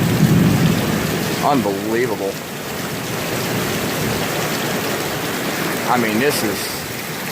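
A severe thunderstorm with high winds in Goose Creek, South Carolina fills the air with a dense, steady roar of rain and wind, while a voice briefly exclaims in awe.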